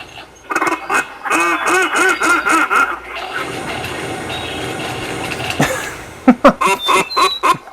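Electronic duck quacks from a duck hunting video game sound in a quick rhythmic run of repeated calls, followed by a stretch of noisy game background and a few sharp bursts near the end.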